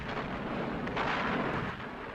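A World War II Katyusha rocket launcher fires a salvo, a dense, sustained roaring rush of launching rockets swelling in the middle and filling the whole stretch, loud and without speech.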